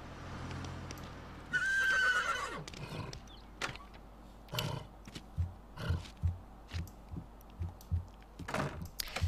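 A horse in The Sims 3 video game lets out a loud whinny, then hooves clop in an even galloping rhythm, with sharp percussive thuds near and clear.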